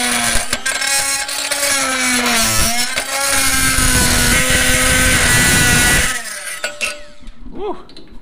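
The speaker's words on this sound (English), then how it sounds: "I just remembered that I bought this tool before, this oscillating blade." An oscillating multi-tool blade cuts metal on a Chevrolet Nova during steering rack fabrication, a loud, steady buzzing whine that holds for about six seconds and then stops abruptly, leaving quieter scraping and handling noises.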